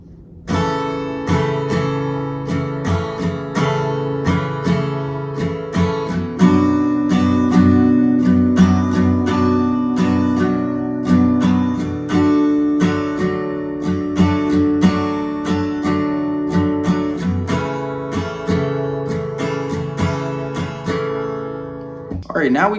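Acoustic guitar chords from a song are strummed in a steady repeating pattern, full and close, continuing unbroken for a long stretch without any talking.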